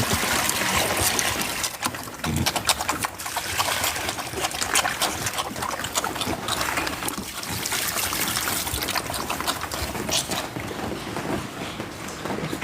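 Water trickling and splashing steadily as it is poured for barn animals during chores, a continuous close liquid stream with spatter running the whole time.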